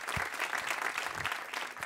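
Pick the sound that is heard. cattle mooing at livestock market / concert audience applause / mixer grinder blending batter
concert audience applause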